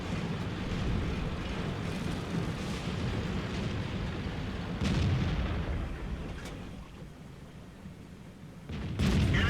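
Tank cannon fire in the World of Tanks video game, with booming shots and rumbling battle noise throughout, louder blasts near the middle and the end.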